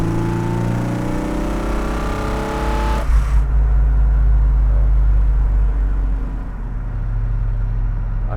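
A loud Fiat 130 coupé engine with triple carburettors drones and revs, rising in pitch before dropping to a rough, heavy roar up close.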